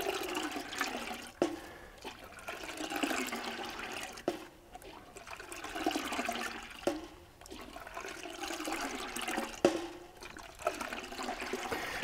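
Homebrew beer wort is sloshed in a fermenting vessel to aerate it for yeast, with repeated surges of churning, splashing liquid in waves every couple of seconds, close and steady.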